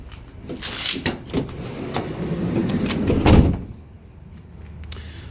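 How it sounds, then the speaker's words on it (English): The manual sliding side door of a 2019 Mercedes-Benz Sprinter 2500 cargo van rolls along its track with rattling clicks, then closes in a loud, heavy thud before quiet returns; close and with no talking. "It's a manual sliding door."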